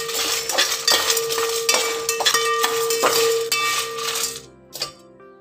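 Whole garam masala, fennel, pepper, dried red chillies and coriander seeds dry-roasting in a metal kadai for biryani masala: rhythmic metallic clinks and rattles from stirring, then near silence and one last clink.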